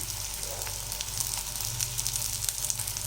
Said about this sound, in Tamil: இந்த தோசைக்கல்லில் அப்படியே போட்டுடலாம்